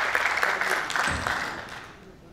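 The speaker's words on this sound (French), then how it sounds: "Je vous demande de l'applaudir" Applause rolls through a hall at an academic-industry forum at ENSAM Rabat, a moderately quiet steady patter that thins and fades away toward the end.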